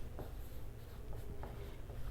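Pen or chalk writing out a math equation solution, a steady scratchy stroking with short bursts and pauses, close and quiet, no talk.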